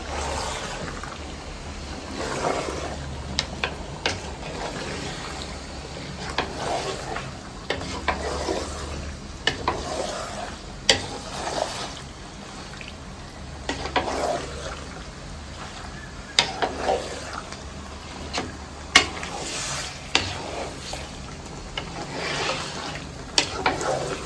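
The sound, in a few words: stirring qurbani meat frying in a pot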